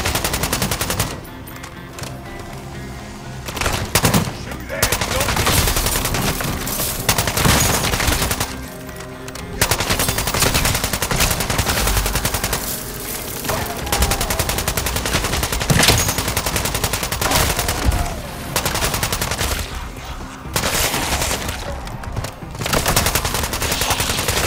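Call of Duty Modern Warfare III Zombies gunfire, long loud bursts of rapid automatic shots with brief pauses between strings, close and dominant, broken by a few short gaps.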